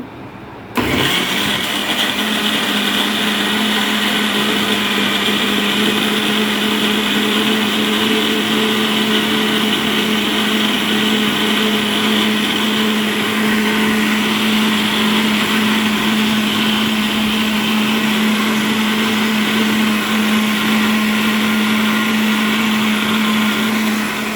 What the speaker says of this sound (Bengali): এখন আমি এটা ব্লেন্ড করব।